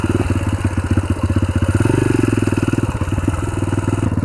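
Sachs MadAss motorcycle fitted with a YX140 engine, powder-coated and rebuilt, running close by with a loud, rapid single-cylinder putter that rises briefly in a rev before settling back to idle.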